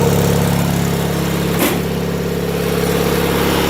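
A Sears Suburban SS16 garden tractor engine runs steadily after a winter cold start, a close, continuous idling drone with an even rumble and no letup.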